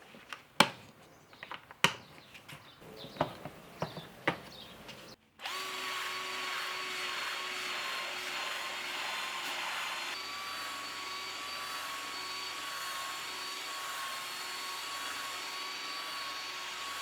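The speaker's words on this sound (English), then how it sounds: "I kicked things off on the mats first with a thorough vacuum" A few sharp knocks and clatters, then a steady loud vacuum drone runs continuously on car floor mats for the rest of the clip, close up with no speech.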